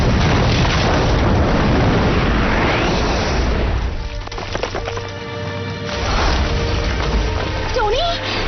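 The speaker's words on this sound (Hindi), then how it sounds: "5 सेकंड में जहाज में विस्फोट होने वाला है।" A loud, deep rumbling boom of an animated spaceship exploding fills the first half, then fades into lower noise with tonal warbling and chirp-like sweeps, like a big sci-fi explosion.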